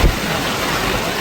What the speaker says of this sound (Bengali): আরে বৃষ্টি রে!